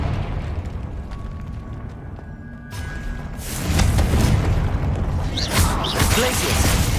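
Confringo fire spell blasting in the video game Hogwarts Legacy, a loud burst of crackling, roaring noise that swells and lingers over a steady rumbling game soundscape.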